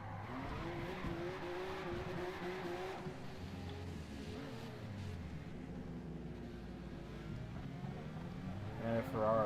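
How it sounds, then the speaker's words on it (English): A Jaguar slides around a track in Forza Motorsport, engine droning steadily with tire squeal and skidding under a continuous motor roar, with talk over it and a louder burst near the end. "I'm just sliding around a Jag trying to get some ideas."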